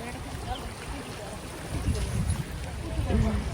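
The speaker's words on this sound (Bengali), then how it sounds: "দেখো প্রচুর জল নামছে এই সাইড দিয়ে, প্রচুর জল।" Water rushing down the side of the Ganges at Chakdaha during high water, a steady broadband wash that swells louder partway through, heard outdoors with light wind and no clear voices.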